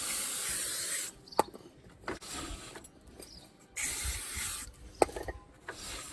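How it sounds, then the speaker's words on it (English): Brake cleaner sprayed onto a Ford Focus Mk2 front brake disc in bursts: a loud broadband hiss from about 0 to 1.1 s and again from 3.7 to 5 s, with quieter rubbing and clunks in between. "So give it a good squirt of brake disc or brake cleaner."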